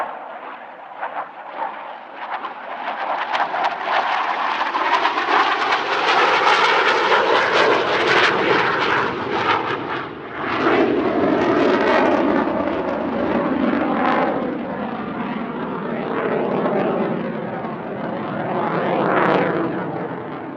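Swedish Air Force jet, a Viggen, roaring past at an airshow with a loud, sustained rumbling jet noise that swells and shifts pitch as it passes, filling the whole stretch without pause.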